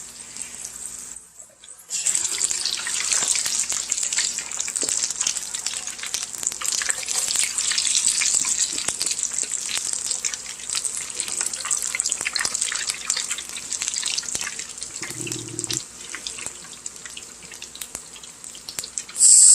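French fries deep frying in a pot of oil on a gas flame, a loud, steady crackling sizzle that starts abruptly after a brief quiet moment and continues without talk.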